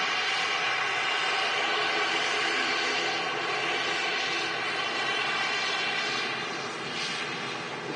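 An Aer Lingus airliner comes in to land at Manchester Airport, its engines a steady, moderately distant roar that holds for several seconds and fades slightly at the end.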